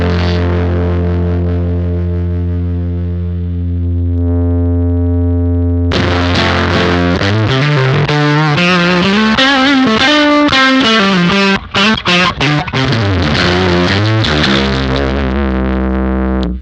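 Electric guitar through a JPTR FX Katastrophe Sludgefest Dominator pedal with its low end turned down: a loud sustained distorted chord rings out, then a fuzzy riff with chorus-like shimmer plays on, ending in another held chord.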